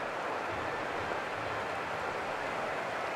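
Heavy rain falling on an outdoor rugby sevens pitch in Malaysia, a dense, even hiss of downpour holding steady throughout with no clear voices.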